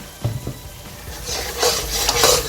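Honey being stirred into chilli paneer in a pan, a soft scraping and sizzling that builds and grows denser, with a couple of clinks of utensil against metal near the start.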